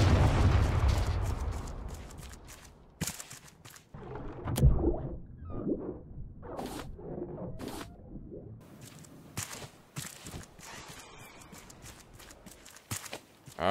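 A bomb blows up in the video game Raft with a heavy, booming blast at the start, followed by rumbling debris and scattered thuds that fade over several seconds.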